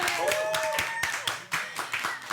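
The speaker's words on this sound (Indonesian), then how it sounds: "Tepuk tangan dulu dong buat Kang Ence." Audience applause for a guest at an Indonesian talk show, a burst of scattered clapping from several hands with cheering voices mixed in, fairly close and lively throughout.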